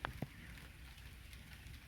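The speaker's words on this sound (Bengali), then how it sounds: "বৃষ্টি পড়ছে আর এইটা হচ্ছে পুরো নদীর পার পর্যন্ত চলে গেছে" Rain falls by a river on the edge of the Sundarbans forest as a faint, steady hiss, with a couple of brief taps near the start.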